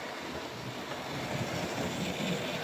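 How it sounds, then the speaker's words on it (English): Two model railway locomotives run together on the track, giving a steady, even mechanical rumble and whir of motors and wheels that stays close and constant throughout. "that's both the locomotives running now"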